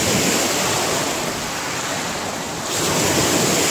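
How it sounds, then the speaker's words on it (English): Ocean surf washes continuously at Port Bruce on a foggy morning, a loud, dense hiss of breaking waves that eases slightly mid-way before swelling again, with no voices. "Use the uh, waves as a ringtone."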